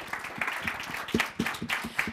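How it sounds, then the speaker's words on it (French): Audience at a francophone Canadian conference panel applauds to welcome four panelists: moderate, somewhat sparse clapping with individual claps standing out in an uneven rhythm, heard from within the room. "Je vous invite à accueillir par vos applaudissements nos 4 panélistes."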